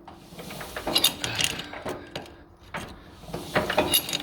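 John Deere A tractor PTO lever being worked with a pipe wrench, giving a slipping, grinding metal ratchet and clunk sound in uneven bursts, close and fairly quiet.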